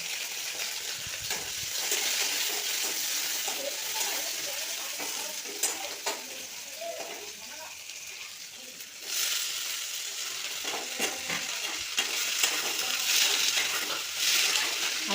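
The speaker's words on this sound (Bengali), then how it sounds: "কড়াই বসিয়ে দিয়েছি, ভাজাটা বসিয়ে দিলাম" Oil sizzles steadily in a kadai (wok) as food fries on a home stove, a continuous crackling hiss with a few louder surges, with no voices.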